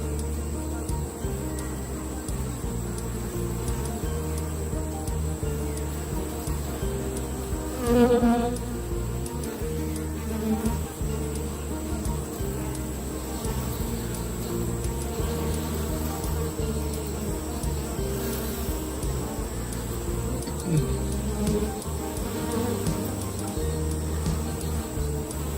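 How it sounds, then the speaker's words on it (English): Bees buzz in a steady, dense drone that holds at an even level throughout, with a brief louder swell near the middle as one passes close. "They're amazing creatures, and so I know I'm showing a lot of the bees."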